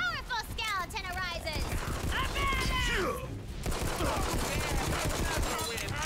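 Rapid gunfire from a fantasy shooter, Tiny Tina's Wonderlands: a dense run of bursts and shots sits over a busy layer of game effects, with voices talking over the action throughout.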